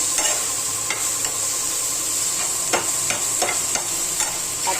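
Red and Kashmiri chili masala frying together in a pan, a steady close sizzle with scattered sharp scrapes and taps of stirring, moderately loud and without voices.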